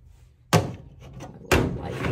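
Two sharp, loud knocks ring out a second apart as a small light is bumped while a Dollar Tree pegboard shelf is mounted, each hit followed by a brief rattling decay.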